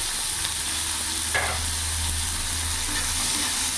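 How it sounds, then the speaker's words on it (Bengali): A large, finely chopped onion fries in a pan for an egg and pointed gourd curry, giving a steady close sizzle throughout with one brief stirring scrape partway through. "পেঁয়াজটা একটু ভাজা ভাজা করে নেবো যতক্ষণ না পেঁয়াজটা নরম হচ্ছে।"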